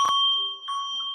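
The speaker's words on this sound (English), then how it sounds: "So let me hit the bell." A bell struck twice, close and clear: a sharp metallic ding that rings on with sustained tones, then a second, softer strike overlapping the decaying ring.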